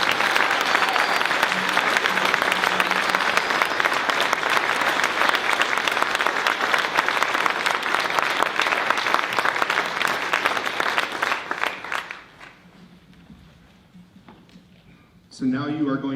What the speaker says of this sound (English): So how about a round of applause for these 12 fantastic people